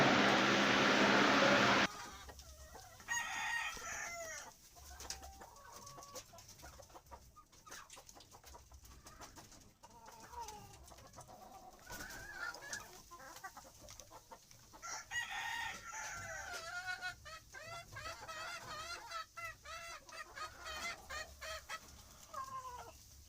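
Chickens cluck and murmur continuously while eating rice and eggs, with one crow near the start and layered calls throughout, close and busy.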